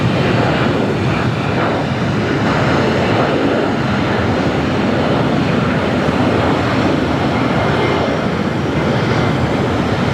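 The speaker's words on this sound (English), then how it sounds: "We've got one of those corporate jets rolling down." A corporate jet rolling down the runway at LAX airport in Los Angeles gives a steady, broad engine roar that holds level throughout with no talk.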